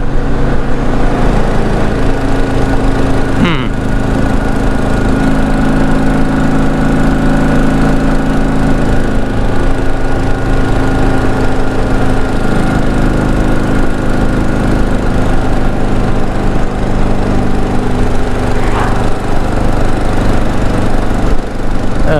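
A motorcycle engine with a boggy carburetor held at full throttle but barely climbing, a loud, unbroken droning roar that stays nearly level throughout with only slight wavering, no voices.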